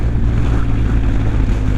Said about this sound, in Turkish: Çok rüzgarlı.